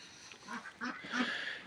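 Duck in a poultry coop, nesting on eggs, giving a few short nasal quacks in quick succession, close and clear.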